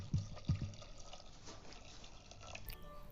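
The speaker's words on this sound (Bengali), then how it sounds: "দিয়ে দিচ্ছি পরিমাণ মতন জল।" Water is poured into a pot of overnight-soaked peas and diced potatoes, a soft close trickle and splashing after two brief knocks at the start, fairly faint with no talk.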